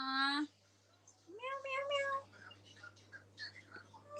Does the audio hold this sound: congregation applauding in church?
no